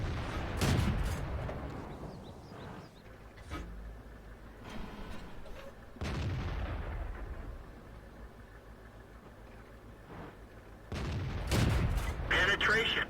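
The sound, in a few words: tank gunfire in the video game World of Tanks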